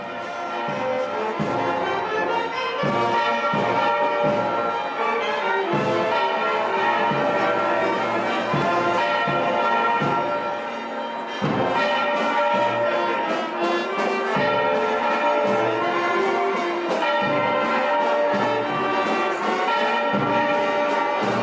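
Many church bells ring together loudly and continuously, a dense overlapping peal with repeated strikes, greeting a religious procession at the Festa da Boa Morte.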